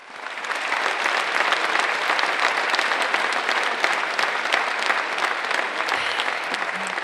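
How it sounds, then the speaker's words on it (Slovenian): Sustained applause from an audience at a charity evening concert honoring the performers, including a klapa group, a military orchestra and a band, steady and dense throughout with no speech. "Jaz bi še en aplavz."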